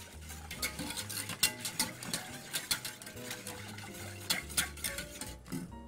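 A whisk or spoon stirs stabilizer and sugar into water for a dark chocolate sorbet, making a steady series of quick scraping clicks against the bowl over faint background music.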